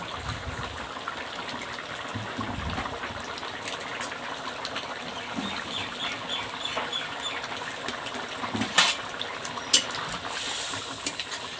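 Bengali fish curry bubbling in a pot, a steady close simmering wash with scattered pops and a couple of sharper splashes near the end, no voices.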